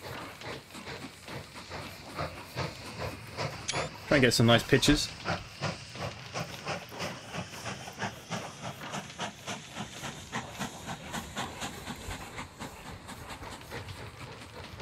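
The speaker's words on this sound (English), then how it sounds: "Let's watch our little train pop out of its shed, since this is our very first one." In the Mashinky train-building game, a steam train rolls out of its shed with a steady rhythmic chuffing and hiss, a brief louder whistle-like burst near the start, while someone talks over it.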